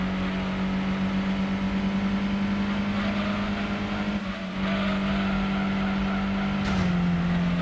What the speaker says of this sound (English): I really enjoy driving the Lotus Europa throughout this entire track over here on the license test.